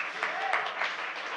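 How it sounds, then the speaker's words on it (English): An audience at a political speech breaks into applause, a dense steady wash of clapping that holds evenly throughout at moderate distance. "We can clap for that."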